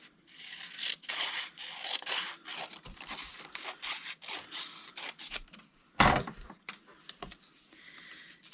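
Scissors or a blade cutting through material for a nature journal craft project, with steady rubbing, rasping strokes close to the mic and a sharp snap partway through.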